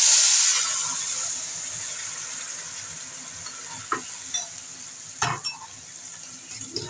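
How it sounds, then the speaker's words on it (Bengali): Dried chilli and black cumin seeds go into hot mustard oil for tempering, opening with a bright, loud sizzle that settles into a steady hiss, followed by a few sharp stirring clatters near the end. "লঙ্কা আর কালো জিরে ফোড়ন দিয়ে দিচ্ছি।"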